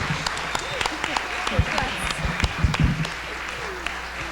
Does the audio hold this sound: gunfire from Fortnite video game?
no